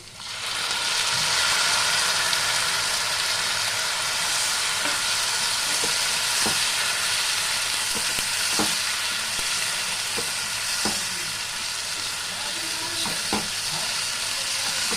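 Ground spice paste of onion and tomato fries in a pan with a dense, even sizzle throughout, broken by intermittent sharp spoon scrapes and taps.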